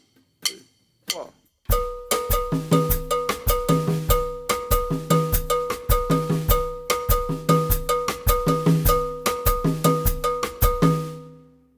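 A drum kit plays a traditional Bembé 12/8 Afro-Cuban groove, a busier, repeating cowbell and drum pattern, loud and close, with a short spoken count-in before it.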